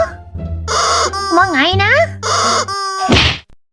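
In Minecraft, a chicken gives high, warbling clucks and squawks, then a sharp hit sound lands near the end, all loud and close, with a voice speaking briefly between the sounds.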